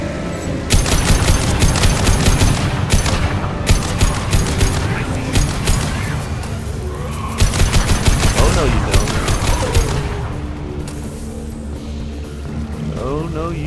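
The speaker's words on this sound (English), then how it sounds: "Hostile fire! Taking cover." Automatic weapon fire from the video game Mass Effect rattles in dense bursts, loud and close, with booms and impacts mixed in and combat voices over the shooting.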